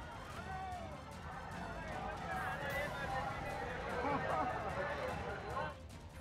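Crowds packed outside liquor shops in a city during a lockdown easing, a steady murmur of many voices and chatter filling the scene at moderate loudness throughout.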